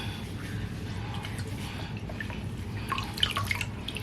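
Water drips steadily from a wrung-out synthetic wig over a sink, a close, soft patter of drops that thickens slightly toward the end, with no talking.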